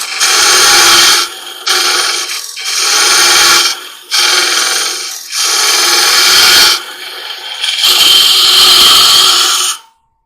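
A tool cuts the bottom of a long-stem wooden goblet spinning on a lathe, easing a small ridge away. Five loud, rasping passes of steady scraping each run a second or two and are split by short quiet gaps.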